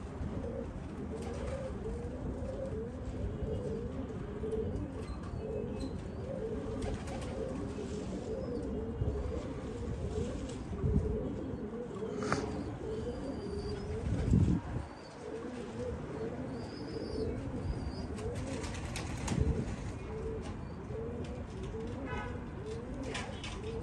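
Pigeons coo softly and repeatedly at a distance, with occasional chirps and faint wing flaps against a steady outdoor background, while a voice murmurs now and then.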